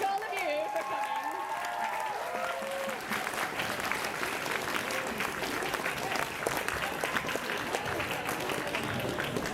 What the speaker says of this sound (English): A big round of applause again to all our entries